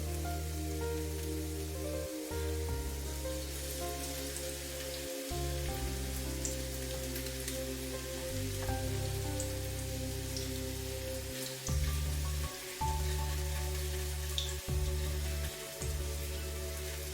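Meat cutlets coated in breadcrumbs fry in a pan with a steady, dense crackling sizzle that runs throughout, while low sustained tones hum beneath it.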